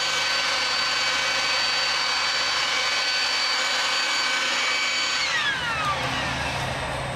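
A cordless battery-powered leaf blower with a relatively narrow nozzle runs steadily on high speed, a loud, sustained whine and rush of air that shifts pitch slightly near the end as it moves leaves.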